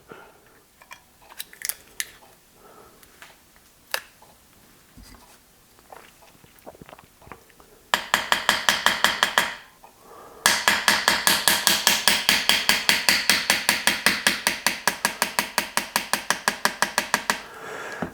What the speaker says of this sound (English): all I'm going to do first is push the roll pin out this way, just enough to get the bolt catch out.